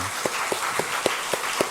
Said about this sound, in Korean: 우리 목원들 위해서 한번 박수 한번 쳤으면 좋겠습니다.